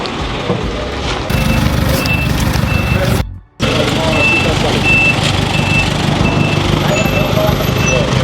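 A loaded truck idles with a loud diesel rumble while its reversing alarm beeps in a steady repeating rhythm, with a brief dropout midway and people talking nearby.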